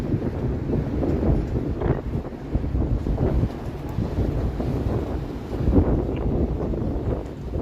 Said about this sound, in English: holy wind. It's ridiculous.